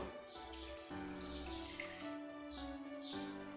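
Water streams quietly into a cooking pot on the stove holding pineapple and sugar, a soft, steady pour with gentle splashing throughout.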